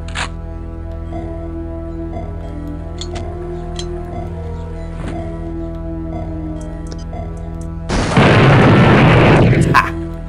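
Remote detonator explosion in the video game Blood, a sudden loud blast that bursts in after a quiet stretch of low ambient hum and faint clicks, holding as a dense roar for about two seconds.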